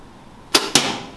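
An arrow is shot from a bow at a Coca-Cola can target: two sharp, close cracks about a quarter second apart, the bow release and then the hit, with quiet before and a short fading tail.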